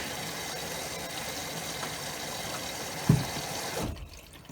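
Steady rushing of cold water pouring into the drum of a Maytag MHW5630HW washing machine, a continuous broadband hiss with a brief knock near the end before it quiets.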